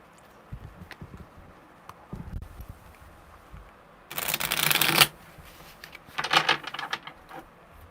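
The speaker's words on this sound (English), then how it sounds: "Okay, one more shuffle just because they're shuffling so well and I love them." Tarot cards being shuffled in quick riffling bursts, with soft taps and handling noises between the louder close shuffles.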